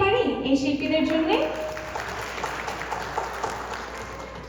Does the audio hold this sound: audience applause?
yes